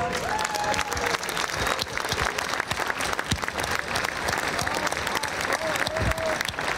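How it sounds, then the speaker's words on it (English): Conference audience at the Velo-City global cycling series kickoff in Copenhagen applauds steadily, a dense even patter of many hands clapping throughout at moderate volume. "I think they deserve a big applause for this kick start"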